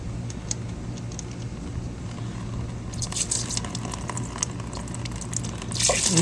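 Coolant drains from the radiator of a Honda Goldwing 1200, a faint liquid trickle and splatter that swells into louder splashing and dripping near the end, heard close up without talk.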